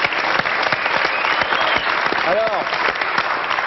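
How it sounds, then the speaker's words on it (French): Steady applause from a TV studio audience fills the room, dense and sustained throughout, with a brief spoken word over it. "On l'applaudit aussi."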